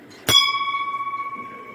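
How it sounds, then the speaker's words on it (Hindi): A temple bell at a Devi shrine in a village temple is struck once, giving a loud metallic clang that rings on with a steady, slowly pulsing hum. "चलिए देवी मंदिर का घंटा बजा देते हैं।"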